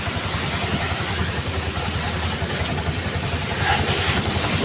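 A BS6 CNG auto rickshaw engine runs after a self start, idling with a loud, even, continuous rumble close by and no talking.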